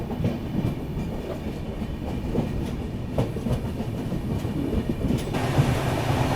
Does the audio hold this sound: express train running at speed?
yes